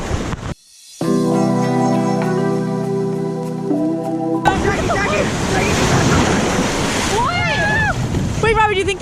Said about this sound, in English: the waves are short today